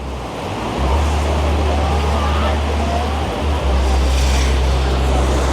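Sea waves wash on Old Digha beach with a broad, steady roar of surf, loud and continuous, with a deep rumbling undertone and a faint voice in the background.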